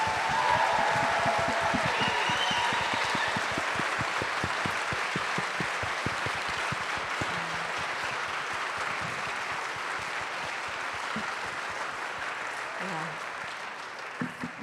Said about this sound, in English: please give a big round of applause to all of our panelists tonight